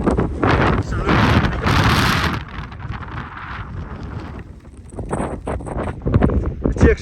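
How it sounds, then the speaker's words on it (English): Strong wind buffets the microphone at a winter wild camp in the UK, sub-zero conditions, with loud gusty rumbles rising and falling throughout and a person speaking in between. "As you can see, it's a little windy."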